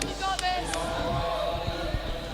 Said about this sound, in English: You have half the crowd cheering Boo and the other half the crowd cheering Seuss